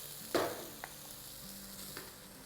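Onions, two to four medium ones, sautéing in a pan, a faint steady sizzle with a sharper hiss as they hit the hot oil, then a few soft stirring scrapes.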